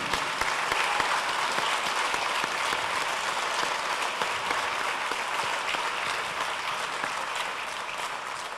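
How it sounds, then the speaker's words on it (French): Steady, dense applause from a large audience honouring inductees at a sports hall of fame ceremony in 2023, sustained and even throughout with no voices over it. "j'aimerais qu'on les félicite et qu'on les applaudisse encore très fort"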